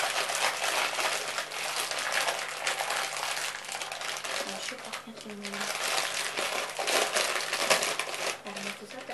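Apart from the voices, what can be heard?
crinkling rustle of sweets packaging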